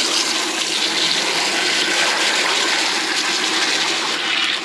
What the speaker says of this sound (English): good water coming out of there.